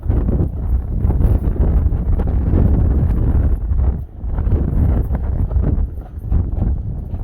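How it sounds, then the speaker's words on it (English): Heavy wind buffets the microphone in a continuous low roar in Carson, California, with brief dips in the gusts; no voices. "You get windy days like this in California"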